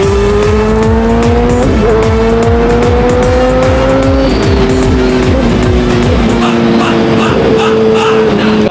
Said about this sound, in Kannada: ಗರ್ಜನೆ ಕೇಳಿ ಗೈಸ್ ಅದರದ್ದು